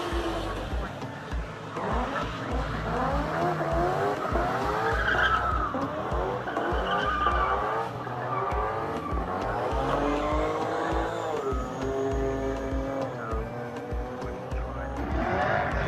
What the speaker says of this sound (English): Steve, how are the burnouts?